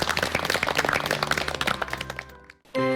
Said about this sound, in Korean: 박수 보내드리겠습니다